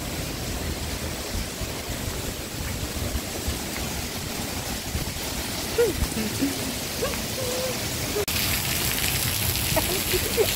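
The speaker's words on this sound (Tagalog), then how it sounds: "Lakas ng ulan." Steady heavy rain hissing down during a wind-driven downpour, with faint voices murmuring in the background throughout.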